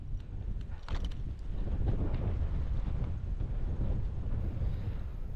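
High wind gusting across an outdoor microphone, a heavy low rumbling buffet that swells and stays loud and continuous throughout, with a few faint clicks near the start and no talk.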